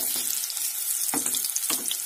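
Potatoes dropped into a pan of frying Bengali-style chicken curry sizzle steadily and up close, with a few brief louder bursts and stirring scrapes, no voices.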